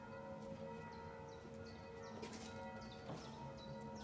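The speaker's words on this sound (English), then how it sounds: "The church bell." A church bell rings in Przemyśl, Poland, its faint, sustained tones and repeated strikes set back in the distance over a dense background hum of town noise.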